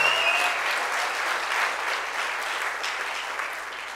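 Steady applause from an audience, a dense wash of clapping that continues evenly throughout with no talking over it.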